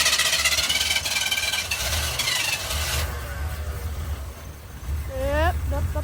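A car engine idles roughly on a $20 junkyard Holley 600 carburetor, still dumping fuel, its steady uneven rumble running under people talking nearby.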